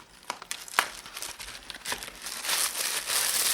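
Plastic packaging around frozen chicken burgers crinkles and rustles close by as it is pulled open, in irregular crackles that grow fuller and more continuous toward the end.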